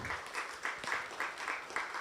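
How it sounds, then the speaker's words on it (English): A group claps hands together in slow unison during a talk on religion and climate, about eight evenly spaced claps over two seconds, fairly soft and close, with no voices over them. "Clap."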